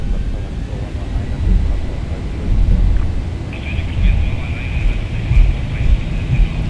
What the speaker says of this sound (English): Takeoff thrust set.